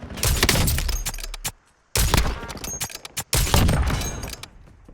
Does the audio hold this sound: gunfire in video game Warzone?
yes